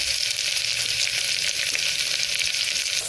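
Two large white onions and ten small onions fry together in a pan for Ramadan nombu kanji, a dense, even sizzle heard up close with light stirring throughout.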